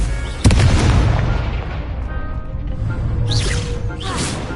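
A Confringo blasting curse from Harry Potter erupts in a sudden loud boom, followed by a sustained rumbling roar with whooshing bursts near the end.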